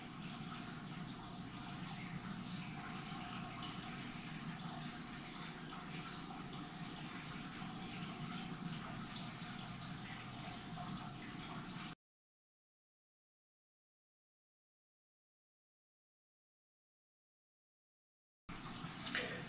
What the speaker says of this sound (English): I'll put that cup upside down and let it drip out the paint